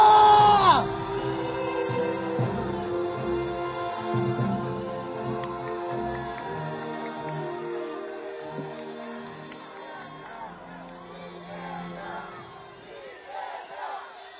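A large crowd at a political rally in Incheon cheers, shouts and claps in a sustained roar that loosens and fades midway, then swells again with whoops near the end.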